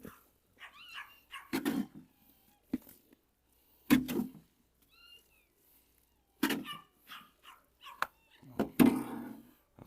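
Dogs, several puppies among them, bark and whimper in short bursts while being fed chicken breast, with quieter gaps between yelps and some human voices nearby.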